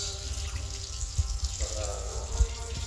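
Water poured into a pot of chicken adobo cooking on the stove, a soft running trickle with a few low bumps and clinks, fairly quiet throughout.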